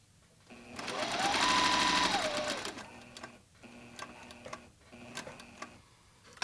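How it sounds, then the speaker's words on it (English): Sewing machine back-tacking a seam on custom pants, running in one loud sustained burst for about two seconds, then stopping and restarting in shorter quieter stitching bursts with ticking pauses between. "I'll do a back tack when I'm getting right on top of the final stitch"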